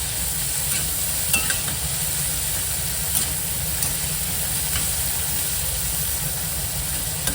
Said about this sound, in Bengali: এবার ভালো করে তেলের মধ্যে পেঁয়াজটা ভাজবো